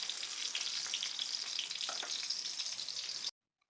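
Tomatoes fry in hot oil in a pan for tomato chutney, giving a steady, close hiss of sizzling with faint bubbling crackles that cuts off abruptly.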